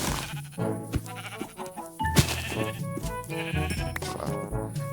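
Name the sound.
sheep bleating in Minecraft video game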